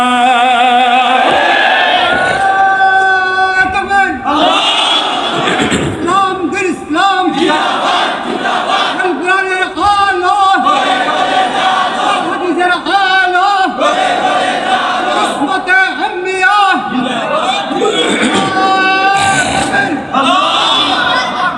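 A large crowd at an Islamic sermon gathering in Dhaka roars the chant Nara-e-Takbir, Allahu Akbar in loud, repeated, rhythmic waves of massed voices.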